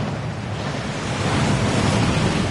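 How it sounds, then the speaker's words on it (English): In Hogwarts Legacy, the Thief's Downfall waterfall inside Gringotts roars as a dense, constant rush of falling water, loud and close, with no talking. "That waterfall washes away all enchantments."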